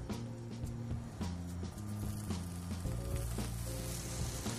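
Chanterelle mushrooms sizzle loudly in a hot frying pan, a steady crackling fry that runs without pause, with faint clinks of a utensil stirring them.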